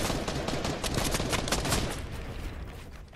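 Rapid video game gunfire in a squad shooter match, a dense, continuous rattle of automatic shots close and loud, tapering slightly toward the end, with no talk over it.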